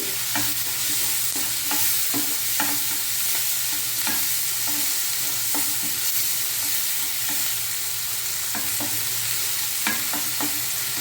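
Onion frying in oil for a dry fish curry gives a continuous, even sizzle. Regular soft clicks and scrapes from stirring run through it, heard close up with no talking.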